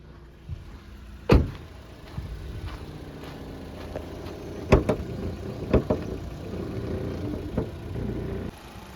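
A 2016 Maruti Swift VXi petrol engine idles steadily nearby with its bonnet open, a low continuous hum broken by a few sharp knocks and clicks.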